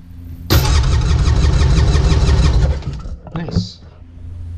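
Seadoo GTX DI two-stroke engine, 2002, cranking over on the starter during a compression test on the mag and PTO sides: a steady, loud rhythmic churning burst lasting about three seconds, then stopping, with a brief voice after.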